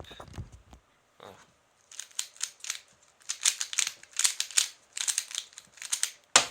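A 3x3 Rubik's Cube is twisted rapidly by hand, producing dense bursts of plastic clicks and rattles in quick irregular runs, close and crisp, after a few opening handling noises.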